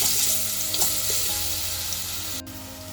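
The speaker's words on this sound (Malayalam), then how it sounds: "നെയ്യ് ചൂടായി വരുമ്പോൾ അതിലേക്ക് അരിഞ്ഞു വെച്ചിരിക്കുന്ന പഴം ചേർത്തെടുക്കുക" Chopped banana fries in hot ghee in a pan, giving a loud, close, continuous sizzle with a few stirring scrapes that fades a little near the end, with no talk.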